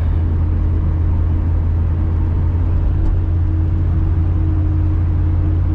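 A car drives across the Piemonte Bridge, giving a steady, loud road and engine rumble with a constant tire hum throughout.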